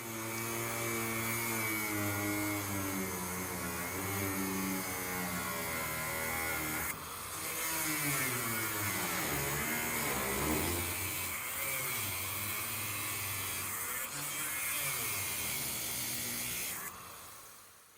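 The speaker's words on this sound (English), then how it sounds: "right here I'm grinding, cutting a straight line" An angle grinder cuts a straight line through the metal of a kitchen grease duct, a loud, steady high whine with a droning motor tone that shifts pitch as the blade bites, dips for a moment, then carries on.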